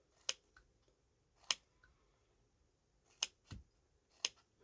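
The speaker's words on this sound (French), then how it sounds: "Je vais couper en petits carrés." Scissors snip paper strips into small squares, with about five crisp, close cuts at an uneven pace and no talking.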